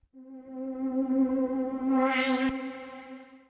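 A synth voice from the ElectroFuzz noise instrument holds one steady, bright harmonic tone with a filter sweep that opens upward near the end, then releases and fades, heard alone with no talking.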